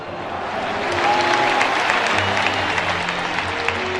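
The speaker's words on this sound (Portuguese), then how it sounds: "todos pudessem dar uma salva de palmas àqueles irmãos que se foram" An audience claps in tribute, the applause swelling and holding steady as a broad wash of many hands, with faint voices and a low hum underneath.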